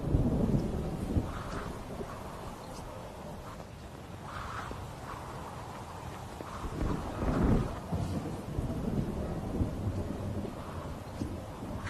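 Violent summer thunderstorm in the Albanian mountains, with deep rolling thunder rumbling continuously through steady rain and swelling again near the middle, heard close and loud with no voices.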